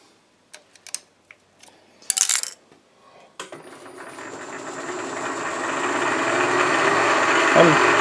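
A homemade surface grinder lead screw being cut on a lathe: a few light clicks and taps, then the machine spins up into a steady, rising whirring hum with a thin high whine that stays continuous to the end.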